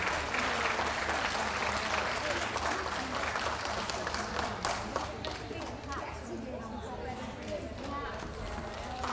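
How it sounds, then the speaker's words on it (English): An indoor audience claps steadily through the whole stretch at a dog show, the applause loud and dense at first and then thinning, with voices mixed in. "let's give them a round of applause."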